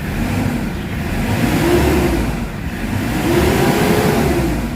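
A Hyundai H100 van engine, sluggish under acceleration, revs up and down twice, its whine rising and falling steadily, loud and close with no voices.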